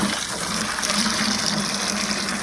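An inexpensive aquarium water-change pump pushes water into a container during a large tank water change, producing a steady, loud, close rush of pouring and gushing liquid with no pauses or voices.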